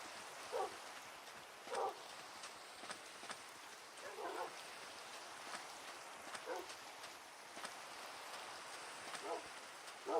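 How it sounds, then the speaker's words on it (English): Dogs in the block-building game Minecraft give short barks and yips every second or two, moderately close, over a steady rain-like background hiss. "Ooh, look, it's another dog."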